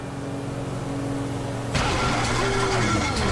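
A damaged boat engine in Grand Theft Auto 5 runs as a steady mid-pitched drone, then breaks into a rougher, louder sputtering churn. The engine noise is close and continuous throughout.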